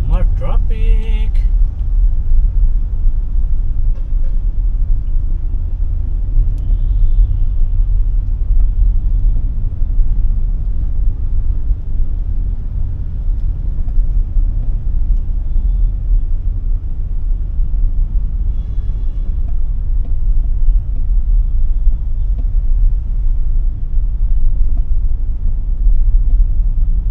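Steady low road traffic rumble heard from a motorcycle on the commute to work, loud and continuous with engine drone and passing vehicles throughout.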